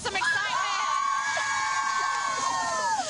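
Festive crowd at the Texas Rose Festival parade cheers and screams together, with high children's voices and shouting blending into a sustained, dense roar that stays loud and steady throughout.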